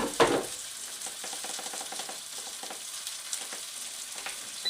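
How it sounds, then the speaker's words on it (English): A panini crisping in an air fryer gives off a steady, soft sizzle and crackle with a few faint clicks, close by and alone. "I'm going to set this panini in the air fryer for a couple of minutes just to crisp it up a bit"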